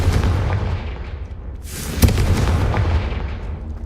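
A Confringo explosive spell cast in Hogwarts Legacy, a sudden rushing whoosh building into a sharp booming blast, set over a continuous low rumbling game ambience.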